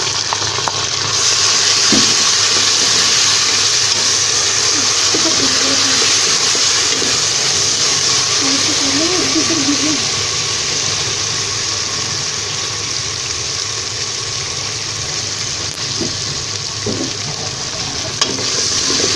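Garlic, ginger and green chili paste fries in a hot pan for a potato-and-egg curry, giving a steady close sizzle and hiss that runs the whole stretch, with a few faint stirring clinks.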